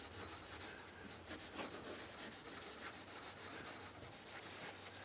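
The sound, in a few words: rubbing oil into a Les Paul guitar fingerboard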